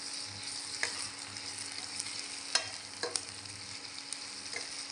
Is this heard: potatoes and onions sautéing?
yes